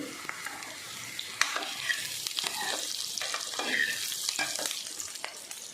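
Onions frying and being stirred in a pan for Punjabi pakora kadhi, a steady sizzle with scraping stirs and spatters, close and fairly loud.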